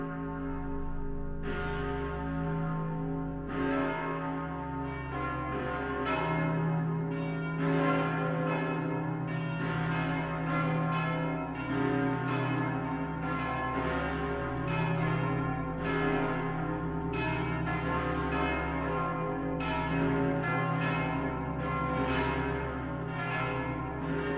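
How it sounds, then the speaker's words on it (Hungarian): Church bells peal continuously and loudly for the whole stretch, several bells overlapping in a rich, sustained ringing with no voices. "szóljanak a harangok"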